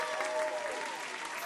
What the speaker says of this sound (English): Let me give a little cheer.